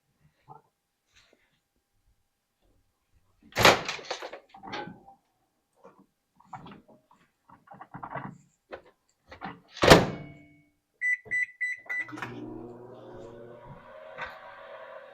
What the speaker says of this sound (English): I'm going to put these in the microwave for 4 to 5 minutes.